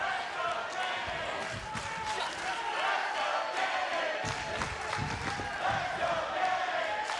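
Impact Zone wrestling crowd cheering and chanting for challenger Kenny King at a 2012 TNA Hardcore Justice event, a loud sustained roar with sharp claps and shouts, commentators talking over it.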